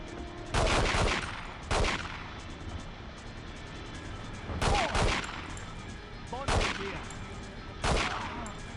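Pistol fire from a Walther P99 in the 2000 N64 game 007: The World Is Not Enough, five sharp separate shots spaced about a second apart against a low background hum.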